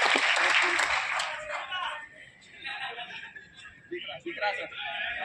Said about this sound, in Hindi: कुमार गौरव सर का जोरदार तालियों के साथ स्वागत है